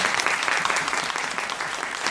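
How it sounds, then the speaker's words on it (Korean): Audience applause at a university special lecture on technology management, a loud, dense and continuous patter of many hands clapping with no pauses for the whole short stretch. "박수 한번 부탁드리겠습니다"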